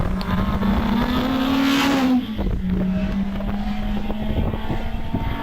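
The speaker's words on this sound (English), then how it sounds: "We now pick up Ralph Pinder coming out of Orchard, heading towards Farmhouse in the yellow Peril Peugeot 205 GTI." Yellow Peugeot 205 GTI racing at Harewood hillclimb, a loud single engine holding a steady high note that climbs, then drops sharply as the driver lifts and shifts, resuming at a lower pitch with crackling and popping, no voices.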